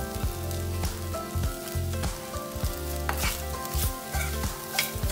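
Paneer sautéing in oil with chili powder, jeera powder and salt: a constant close sizzle with scraping stirs, alongside a steady patterned hum from background music.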